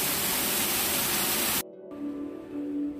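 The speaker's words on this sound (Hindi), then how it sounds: "मस्त झरना है।" A waterfall near Hadshi temple in Mulshi, near Pune, roars as a loud, steady rush for a moment before an abrupt cut to a much quieter, distant background.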